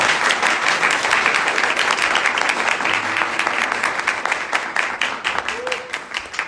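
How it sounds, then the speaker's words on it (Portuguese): Members of a church congregation applaud in dense, continuous clapping that rises and then gradually thins toward the end, with a few faint voices mixed in. "Será que você pode aplaudi-lo mais uma vez?"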